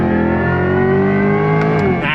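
A 2024 Chevrolet Corvette C8 E-Ray hybrid accelerating hard on throttle in manual shift mode, with a steady loud engine drone that climbs slightly and then changes pitch as it shifts near the end.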